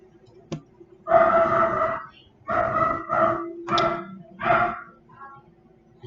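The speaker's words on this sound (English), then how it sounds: "My dog's going nuts" A dog barks indoors, several loud, close barks in quick bursts, with the first long and the rest shorter, separated by brief pauses and a low background hum.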